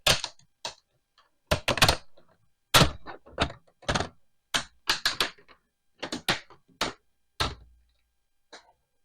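A plastic laptop screen bezel being pulled off along its sides by hand gives an irregular series of sharp, close clicks and snaps with short quiet gaps, and no talking.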